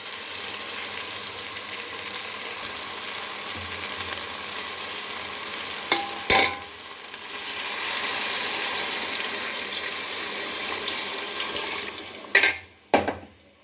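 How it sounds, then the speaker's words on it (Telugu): Water goes into a pot of bagara rice masala with a steady sizzling rush, followed by a couple of sharp clatters and splashes near the end. "ఇప్పుడు ఇందులోకి వాటర్ని అయితే యాడ్ చేస్తున్నాను"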